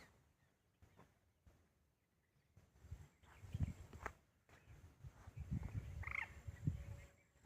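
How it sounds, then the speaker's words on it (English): Birds calling at Bharatpur Bird Sanctuary in India, with a few scattered calls and a low, turkey-like gobbling rising in the middle distance against a quiet outdoor background. "Silence and the sound of birds."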